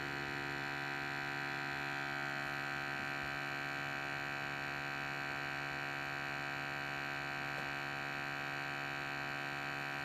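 A steady electric hum from an SEM5000 gas analyzer's pump running through a calibration test, constant and fairly faint, with no change in level and no voices.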